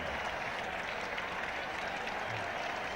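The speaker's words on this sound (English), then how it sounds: "So that's about the biggest cheer of the day" Spectators at a 1977 England versus Australia Test cricket match applaud and cheer loudly in a dense, sustained ovation that fills the ground.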